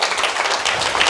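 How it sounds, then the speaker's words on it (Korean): A church congregation claps in encouragement for the choir during a Sunday revival service, a brief burst of close, steady hand clapping. "자, 우리 찬양대 우리 격려박수 한번 해주실까요?"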